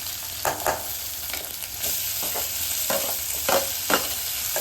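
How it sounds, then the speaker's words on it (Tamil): Sliced onions fry with ginger garlic paste in a pan for wheat rava upma, a loud continuous sizzle broken by the scrape and clatter of stirring, close up and with no voices. "வெங்காயம் கொஞ்சம் வதங்கிச்சு. அந்த நேரத்தில் இஞ்சி பூண்டு பேஸ்ட் போட்டுக்கலாம்."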